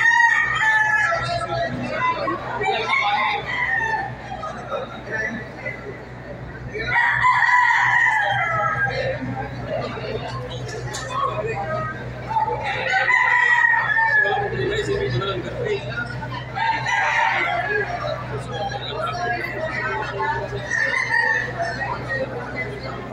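Roosters crow repeatedly at a cockfighting arena in San Juan Coliseum, several calls overlapping at moderate distance amid clucking and a steady low hum, while people talk throughout.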